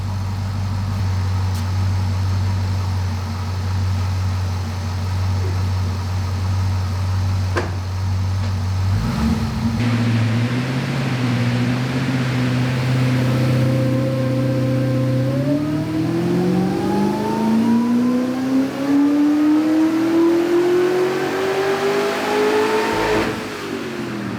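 A C6 Corvette with an Edelbrock E-Force supercharger idles loudly and evenly, then revs up in stages, its pitch climbing in long sweeps as the engine spins higher, close and with no talking.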